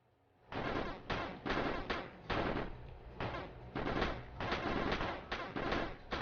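SMG burst fire in the PS5 video game Hero Survival: loud, rapid gunfire bursts repeat in a steady rhythm across the whole stretch, separated by brief gaps, with no talking.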